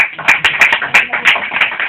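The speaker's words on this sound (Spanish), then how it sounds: "Fuerte el aplauso para Cristo." A congregation at a Spanish-language evening church service claps for Christ, loud close-up sharp hand claps in an uneven rhythm, a few hands prominent rather than a large crowd wash.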